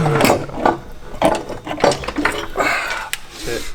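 Turbo being pried off a Nissan Skyline: a busy run of close metallic clanks, rattles and scraping knocks in uneven bursts, with voices mixed in.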